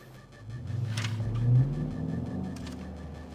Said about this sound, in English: let's just drive the car